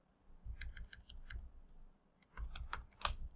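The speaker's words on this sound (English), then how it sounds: "Just type in what you need." Quiet bursts of typing on a computer keyboard, two separate runs of quick clicking keystrokes with a short pause between, close and soft against near silence.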